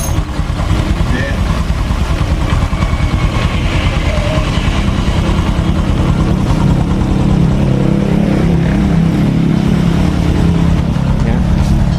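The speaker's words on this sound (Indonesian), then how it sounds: "Ini motor kondisi menyala" A Honda Supra X 125 motorcycle engine runs close by after a rebore and cylinder head fitting, a steady rapid idle putter held loud and constant the whole time.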